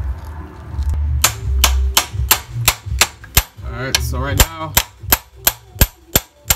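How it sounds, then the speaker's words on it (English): A socket is hammered against a pilot bearing during a manual transmission swap on a Lexus IS300, about a dozen sharp metallic hammer strikes in a regular rhythm, close and loud, with someone talking briefly at the start. "he's hammering in the pilot bearing"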